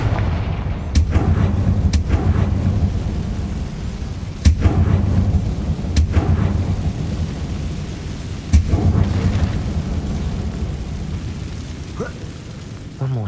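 Confringo fire spells go off in Hogwarts Legacy as a series of heavy booming blasts, several sharp impacts spaced through the clip over a rumbling game background.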